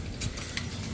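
A set of motorcycle keys jangles close by in a brief burst of light metallic clinks, with a low background rumble and no voices.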